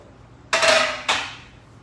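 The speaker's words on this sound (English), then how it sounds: "I'm going to add my cauliflower to my casserole dish." Roasted, softened cauliflower goes into a casserole dish for keto mac and cheese, giving two close clattering knocks against the dish about half a second apart, each ringing and fading, in a quiet kitchen.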